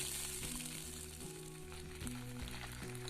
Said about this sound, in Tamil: தாளிக்கு தேவையான ஜீரகம், பட்டை, லவங்கத்தையும் உள்ளே போட்டாச்சு. அதுக்கப்புறமா ஜிஞ்சர் கார்லிக் பேஸ்ட்.